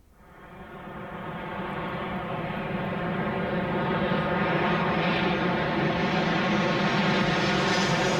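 An airplane engine drones in White Album 2, a steady propeller-like hum with many layered tones that swells from quiet to loud and then holds, near and continuous, with no voices.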